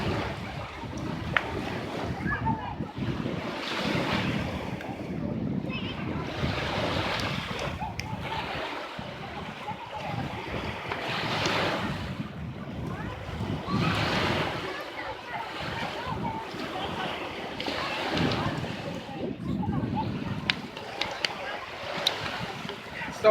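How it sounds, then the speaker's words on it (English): Ocean waves wash onto a beach in broad, repeating surges every few seconds, loud and close, with wind noise and occasional voices nearby. "just listen to that water"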